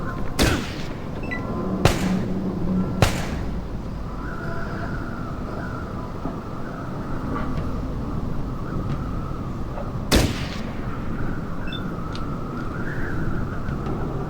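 Gunshots in the Fallout Tactics video game, a few sharp separate cracks with a longer gap before a later shot, over steady background game noise and a low hum.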